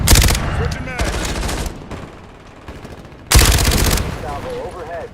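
Loud bursts of rapid gunfire in a combat setting, with one sustained burst at the start, another around one to two seconds in, and a heavy burst near the end, separated by quieter stretches with faint voices underneath.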